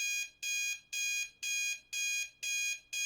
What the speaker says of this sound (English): My alarm pulls me back to the mortal coil.